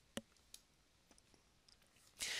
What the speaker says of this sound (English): So we click OK.